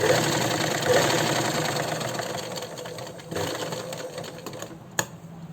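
A sewing machine stitches a sleeve with piping, running at a steady, fairly loud hum with slight speed changes and a brief click near the end.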